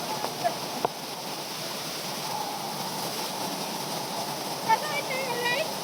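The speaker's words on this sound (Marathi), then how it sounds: "त्यामुळे पाण्याचा फोर्स एकदम वाढलेला आहे. सगळं आता गढूळ पाणी यायला लागलेलं आहे वरून खाली" A waterfall swollen with muddy water after heavy flow rushes down forcefully, making a steady, even roar throughout, with a faint voice briefly audible.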